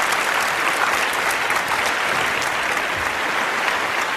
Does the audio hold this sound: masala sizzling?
no